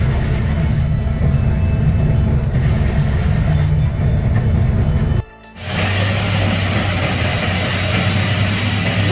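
The Beast 680 tree cutting machine, with a 60-inch cutter, runs its engine in a loud, steady drone with grinding noise, briefly cut off by a sudden break before resuming.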